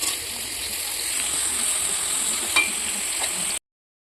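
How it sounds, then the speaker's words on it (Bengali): Green beans frying in a kadai while food is cooked for a puja give a steady close sizzle with faint stirring, cutting off abruptly after a few seconds. "এবারে বিন কড়াই ভাজা হচ্ছে"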